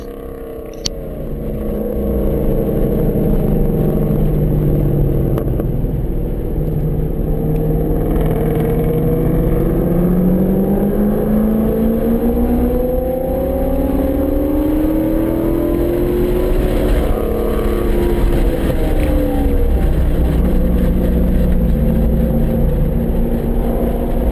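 Race car lapping at Virginia International Raceway, heard from inside, with a loud sustained engine drone rising and falling through gear changes and accelerations, steady and continuous with no speech.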